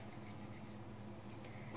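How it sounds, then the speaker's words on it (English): Close, faint soft rubbing and brushing as a small piece of cotton wick for a plume veil is worked between the hands, continuous for a moment with no talking. "you're gonna take it and you're just gonna rub it in your hands a little bit"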